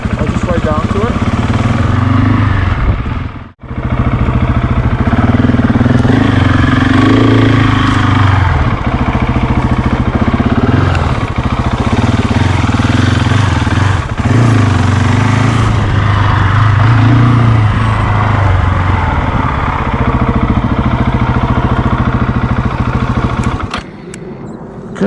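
A Husqvarna 701 motorcycle rides along toward a small off-road area, its single-cylinder engine droning loud and close for most of the stretch and dropping briefly once before fading out near the end.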